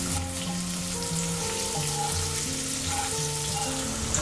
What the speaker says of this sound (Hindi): तेल गरम हो गया है, अब इसमें हम जीरा डालेंगे, हरी मिर्च डालेंगे